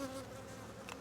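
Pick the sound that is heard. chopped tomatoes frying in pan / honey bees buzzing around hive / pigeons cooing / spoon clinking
honey bees buzzing around hive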